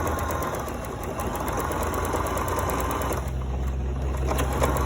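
Sewing machine running steadily while edge stitching a fabric face covering, a continuous close mechanical whir that shifts slightly in tone partway through as the stitching eases into a curve.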